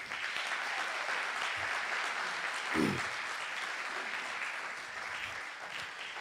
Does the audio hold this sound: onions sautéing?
no